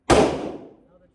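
A single sharp gunshot at an outdoor shooting range, a loud close crack that decays over about a second into a short reverberant tail.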